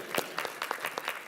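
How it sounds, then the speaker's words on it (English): Brief, light applause from a small audience at a municipal summit, a handful of people clapping unevenly for about a second and a half, moderately close and fairly quiet. "should give a little applause"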